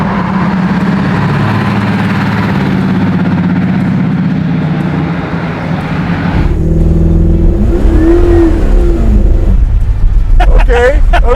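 Chopped and dropped, garage-built 1949 Chevy truck: its engine drones loud and close under acceleration, then the pitch drops abruptly as it downshifts into a deeper rumble, with voices talking over the end.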